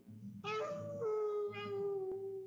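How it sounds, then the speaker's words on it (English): A coyote howls in one long, wavering, rising-and-falling cry that stays loud throughout, laid over a low, steady rhythmic background. "coyote is howling."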